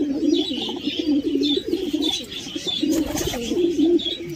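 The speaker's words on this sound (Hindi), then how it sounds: "तो देख पा रहे हैं कबूतर जो है आ चुके हैं अभी इधर पानी पीने के लिए" Pigeons coo repeatedly at close range while they come down to drink water, the soft rolling calls repeating in a steady rhythm, with a few brief chirps from other birds mixed in.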